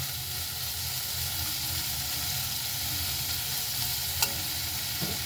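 Prawns sautéing with spice paste in a pan, a continuous close sizzle and hiss with a soft scrape near the end and no speech.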